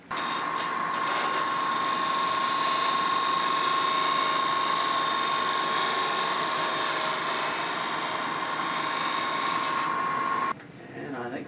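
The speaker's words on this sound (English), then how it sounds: "I'm just going to use a skew as a negative rake scraper and come in here" Steady high whine of a spinning lathe with a faint scraping hiss as a skew, used as a negative rake scraper, works a walnut box, continuous and close, then the motor winds down.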